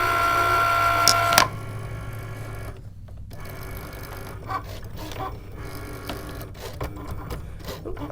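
A Cricut Maker cutting machine with a fine point blade cutting earring shapes, a steady mechanical whir and hum with small clicks, loud at first and then dropping to a quieter running drone.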